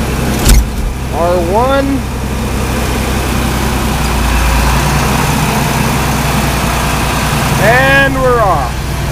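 A diesel engine idles steadily with a low, constant rumble after a cold start inside a shop, while someone speaks briefly near the start and again near the end.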